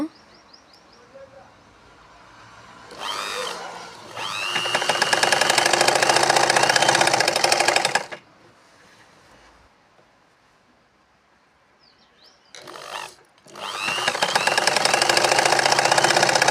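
An electric sewing machine stitches along a saree's border in two long, rapid runs of close mechanical chatter, separated by quieter pauses with a brief voice.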